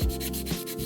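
Nail file, using its rougher side, rubbing across a plastic nail polish swatch wheel coated with a dip powder system, making a steady close scraping rasp that lasts under a second.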